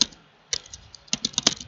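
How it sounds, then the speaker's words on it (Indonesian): Keys clatter on a computer keyboard in quick, uneven bursts of taps, close and moderately loud, with a short pause before a faster run of keystrokes. "Kemudian kita akan mengetik"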